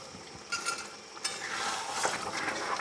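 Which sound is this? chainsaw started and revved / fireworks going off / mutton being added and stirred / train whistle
mutton being added and stirred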